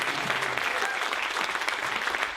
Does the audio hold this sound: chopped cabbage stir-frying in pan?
no